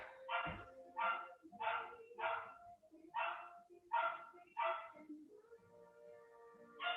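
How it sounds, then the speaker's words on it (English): A dog recovering from a recent operation barks repeatedly indoors during a floor stretching session, loud sharp yaps in irregular bursts with whimpering tones between them, close to the microphone. "Sorry about my dog."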